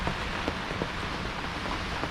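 Steady rain pattering on a surface on Boa Vista island, a continuous broadband hiss with occasional louder drops, close and even throughout.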